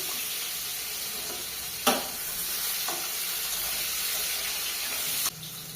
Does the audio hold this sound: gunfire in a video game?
no